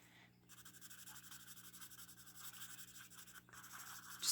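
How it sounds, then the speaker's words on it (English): Prismacolor colorless blender pencil rubbing across paper in soft, continuous scratchy strokes, quiet and close, with a brief pause near the middle. "just going to quickly blend that in"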